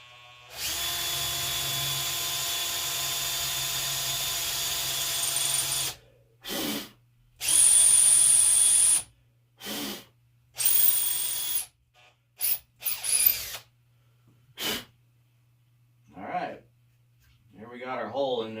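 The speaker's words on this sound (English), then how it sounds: "now I got my 5/32 drill bit, and let's go ahead and drill this hole" A power drill with a 5/32 bit whines steadily for about five seconds while drilling a sling swivel hole in a Hatsan Flashpup air rifle, then runs in several short bursts, with brief quiet gaps and some talking near the end.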